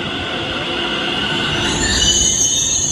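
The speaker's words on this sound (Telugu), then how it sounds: "సో మెట్రో ట్రైన్ వచ్చింది కాబట్టి మనం ఇంకా వాళ్ళందరూ దిగేస్తారు మనం ఎక్కేస్తాం" A Delhi Metro train pulls into the station with loud, sustained wheel squeals and a metallic rail rumble, rising slightly as it slows.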